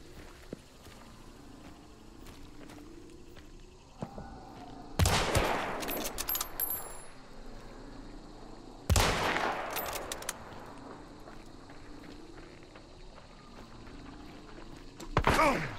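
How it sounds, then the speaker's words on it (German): Gunfire erupts from behind in the Hunt: Showdown game, two heavy bursts of loud shots and impacts separated by a few seconds of quieter ambient noise, with another blast at the very end. "Ich werde beschossen von hinten."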